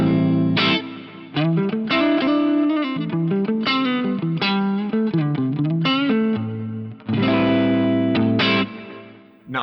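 Old Stratocaster on its neck pickup plays a melodic electric guitar line through an Axe-Fx modelled Dumble-style amp with dual delay and wide hall reverb, notes ringing and sustaining with smooth, slightly driven tone, loud and close.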